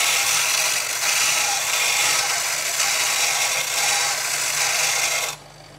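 A star wheel dresser with a cast iron handle grinds against a spinning bench grinding wheel, making a steady loud rasping whir that continues evenly for several seconds and then cuts off near the end.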